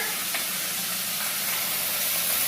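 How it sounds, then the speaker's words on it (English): Steaks searing in ghee under the pressed-down lid of a Cinder indoor grill, a steady close broadband hiss and sizzle held without a break and with no talk. "We're gonna put these steaks on. Close the lid, press to sear,"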